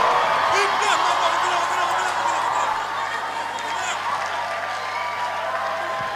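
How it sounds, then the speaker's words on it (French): An audience applauds a diocesan choir at an anniversary concert. The clapping is dense and sustained from a large crowd, loud and steady throughout, with a few scattered whoops mixed in. "Merci de les accueillir, de les applaudir."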